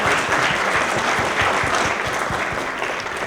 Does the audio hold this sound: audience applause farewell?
yes